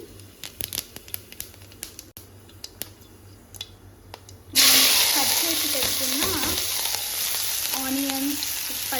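Fennel seeds hit hot oil in a kadai and burst into a loud, continuous sizzle and crackle. Before that come scattered quiet clicks and taps over low background noise.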